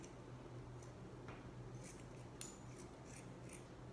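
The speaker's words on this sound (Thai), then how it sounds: "หลังจากที่เราทำการตัดทั้งสองข้างออกเรียบร้อย" Faint, sparse snips of scissors cutting through fabric along both sides of a sewn bag, a few short crisp cuts over a quiet room hum.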